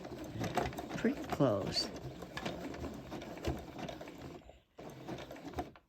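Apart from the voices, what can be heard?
sewing machine stitching two rope strips together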